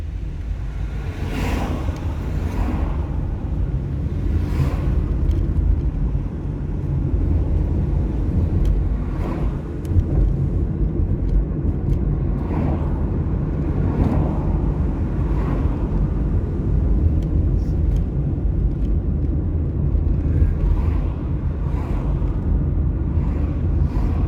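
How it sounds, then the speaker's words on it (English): Steady road traffic rumbles around a car driving through Halifax, a continuous low engine and tyre drone with several louder vehicles swelling past at intervals, close and fairly loud throughout. "the traffic is heavier than I anticipated"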